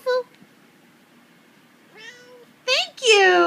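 A pet cat meows several times indoors, starting with a short faint call and building to two louder, drawn-out meows near the end, with quiet room tone between.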